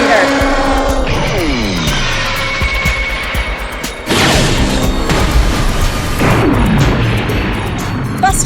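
A dramatic game-card duel destruction effect, Blue Eyes wiping out Buster Blader: sweeping whooshes and a loud crashing boom with rumbling debris, all close and intense, while voices talk over parts of it.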